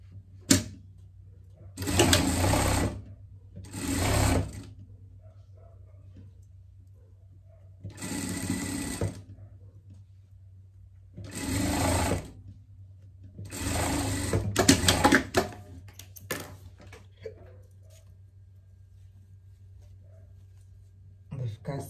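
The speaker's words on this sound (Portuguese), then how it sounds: "eu vou no overlock, passar o overlock aqui e já dar uma limpeza aqui" Overlock serger sewing machine stitching and trimming fabric for a pet costume wig, running in several loud bursts of a few seconds each with pauses between, close up, with some talking around it.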